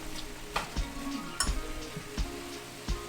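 Carrots and celery stir-fry in a pan for chicken lo mein, a continuous sizzle broken by several sharp clicks and clinks of a utensil against the pan at uneven intervals.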